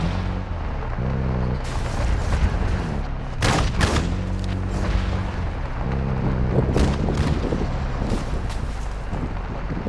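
Bursts of gunfire in the video game Call of Duty MWII DMZ, several loud sharp volleys and booms spread across the stretch over a steady windy, rumbling game background with no talking.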